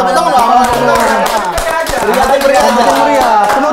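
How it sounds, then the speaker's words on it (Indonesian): A live comedy audience claps together after a call for applause, steady dense clapping close and loud, with some voices mixed in. "Tepuk tangan dong."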